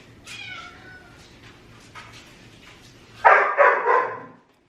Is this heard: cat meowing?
yes